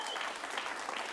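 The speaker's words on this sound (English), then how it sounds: "Give them a round of applause" Dense audience applause at a tenth anniversary reunion show, a steady, even wash of many hands clapping, fairly faint and distant, with no voices over it.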